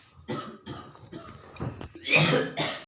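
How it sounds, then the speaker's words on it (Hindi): A few harsh coughs close by, separated by short pauses, ending in a louder throat-clearing burst. "यार खांस ले पहले"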